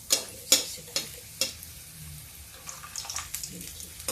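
Barley and jowar puris fry in hot oil, a soft bubbling sizzle punctuated by sharp crackling spits and splashes near the start, close and fairly quiet, with a brief low voice underneath.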